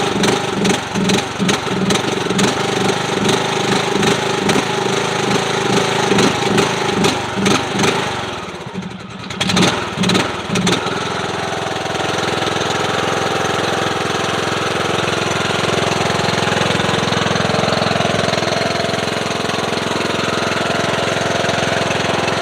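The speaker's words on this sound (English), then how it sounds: "You need to go ahead and purchase your lawn tractor from me." A John Deere D110 lawn tractor's engine runs steadily and close by, with a throbbing, uneven beat for about ten seconds before settling into a smooth, continuous drone. No one speaks.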